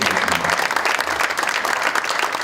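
A dense round of audience applause at a Democratic Party special committee launch ceremony on climate and energy transition, continuous even clapping from a large crowd heard without any talk.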